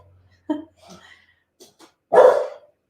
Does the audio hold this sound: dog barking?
yes